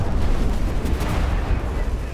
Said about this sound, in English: their Iskander missiles look a lot cooler when they drop and explode